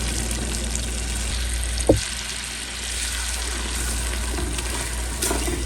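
Half a cup of butter and half a cup of flour cook together in a pan for a mac and cheese roux, with a constant close sizzle and a few louder pops and clicks.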